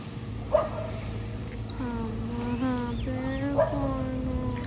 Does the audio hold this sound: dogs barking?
yes